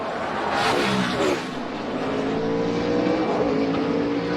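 NASCAR race cars on a road course, engines droning and shifting pitch as the cars approach a turn, a loud continuous roar with a brief surge, fairly close and with no talk over it.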